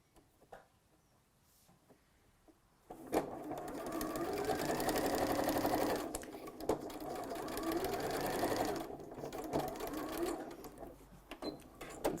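A sewing machine stitches the facing of a scrubs jacket, running in two long steady bursts after a few soft handling clicks, close and fairly loud, with short pauses between runs.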